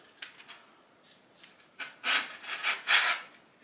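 Crown molding is rubbed back and forth over adhesive-backed sandpaper to sand its profile, giving soft, faint, irregular scratchy strokes that grow into several louder rasping passes near the end.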